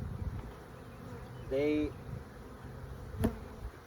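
Honey bees buzz steadily in a hive whose entrance reducer has been removed, with a sharper, louder whine swelling briefly as a bee passes close by, while a person talks nearby.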